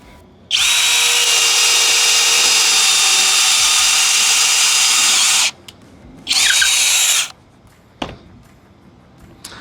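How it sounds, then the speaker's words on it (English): A FLEX hammer drill with a 3/4 inch auger bit, set to speed 1 with turbo off, roars loudly and continuously for about five seconds, then gives a second short burst before falling quiet. "This is a 3/4 inch auger bit."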